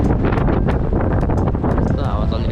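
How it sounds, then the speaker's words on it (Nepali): Strong wind buffets the microphone outdoors, a loud continuous roar with gusty surges throughout. "यस्तो हावा चलिरहेको छ।"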